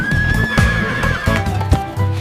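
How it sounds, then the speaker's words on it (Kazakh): A horse gives a loud, drawn-out whinny up close, followed by rhythmic galloping hoofbeats thudding in quick succession, with no voices heard. "Бұл жылқы жүйрік қой, шауып барады."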